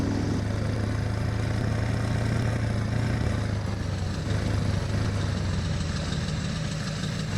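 The LIMES L400 modded truck in SnowRunner runs with a deep, steady engine drone and a low rumbling hum held at an even level throughout, with no talking.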